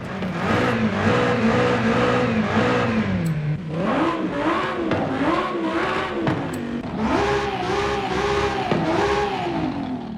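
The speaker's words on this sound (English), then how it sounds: "That's not the BMW V10. That's the Audi V10." Audi V10 engine swapped into a BMW M8 Competition in Forza Horizon 5, revving loudly and continuously as the pitch rises and falls through repeated accelerations and gear changes, up close with no talking.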